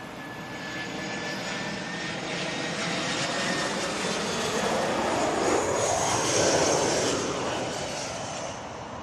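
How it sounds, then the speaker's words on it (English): A small passenger jet lands at London Heathrow Airport, its steady engine roar and whine swelling to a peak midway and then slowly fading, heard at a distance with no talk. "we have our next arrival"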